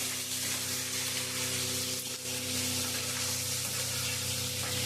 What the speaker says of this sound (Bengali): এবার তেজপাতা দিয়ে দিল একটু ফোড়নে